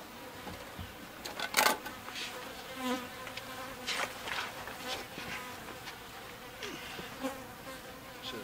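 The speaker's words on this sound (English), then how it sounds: "Sometimes the bees here in South Texas can be a bit testy" Honey bees buzz steadily in a colony hidden under the floor of a mobile home in South Texas, a continuous close drone with faint clinks and scrapes scattered through it.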